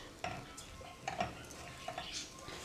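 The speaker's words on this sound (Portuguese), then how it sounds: "Aí eu vou deixar dar uma fritada no arroz para ele ficar soltinho." Rice fries in a pan as a spoon stirs it, giving soft sizzling under a few light scrapes and clinks of utensil against metal, fairly faint and close.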